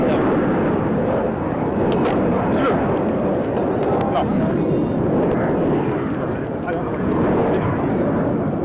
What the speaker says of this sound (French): Vous entendez l'avion qui passe.